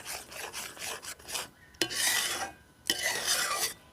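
Ripe palm pulp being mixed with a little water by hand in a bowl for a sweet, giving soft wet rasping and rubbing strokes in an uneven rhythm, close and quiet, with no voices.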